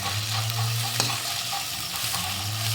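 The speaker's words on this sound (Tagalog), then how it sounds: "dito natin magpiprito sa kaldero ng isda" Danggit and tulingan fish frying in oil in a cooking pot give a steady, close sizzle with light crackles and the occasional clatter of stirring throughout, with no talking.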